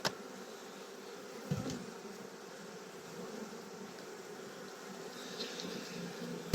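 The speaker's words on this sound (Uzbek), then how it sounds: "Bu arilarimiz" Honey bees held in a container give off a steady, faint buzzing drone with no talking, rising in a few brief louder swells.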